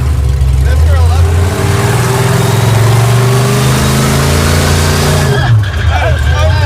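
Stubby Bob, a wheelstanding dump truck, roars at full throttle, its loud, close engine note climbing steadily through the revs before a sharp shift near the end, with voices faintly mixed under the din.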